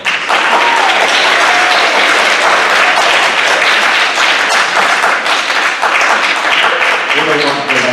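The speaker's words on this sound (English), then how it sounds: "let's give them another round of applause." Sustained audience applause fills a high school academic awards ceremony, a dense, loud wash of many hands clapping throughout, with faint voices and cheers mixed in toward the end.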